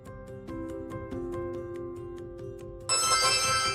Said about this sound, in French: J'entends plein de bruits de notifications. Ça arrête jamais de sonner.